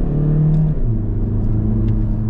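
A 2023 SEAT Leon FR+ with a Volkswagen Group engine accelerates, its low engine drone steady and close with a brief shift in pitch partway through, no talking over it.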